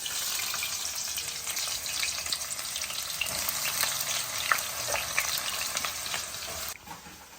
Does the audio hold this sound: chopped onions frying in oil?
yes